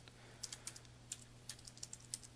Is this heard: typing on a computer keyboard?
yes